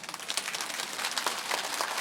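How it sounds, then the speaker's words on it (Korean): A church congregation claps in scattered, soft applause, faint and distant, a brief burst of light hand claps filling the room. "근데 지금 박수 치면 안 되는 게"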